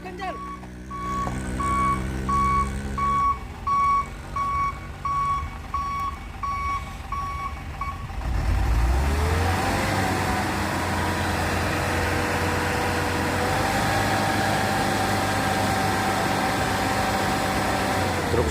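A truck's reversing beeps repeat steadily over engine rumble, then a heavy FAW truck engine roars and revs loudly for a long stretch on a hill, with faint talk.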